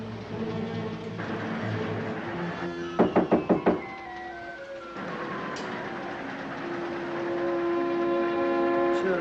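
Four or five quick, sharp knocks rap on a train compartment door, standing out clearly over the constant rumble of the moving train, with a tonal train sound in the background.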